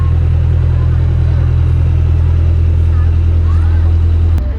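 A tourist boat engine drones steadily on a Periyar lake boat ride in the Periyar Tiger Reserve, a loud, constant low hum that fades slightly at the very end, with no talk.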